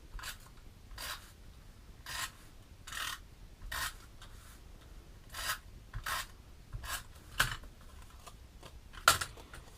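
Stampin' Up! Snail tape runner pressed along the four corners of a card gift box base, giving a series of short dry rasping strokes spaced about a second apart, close and fairly quiet.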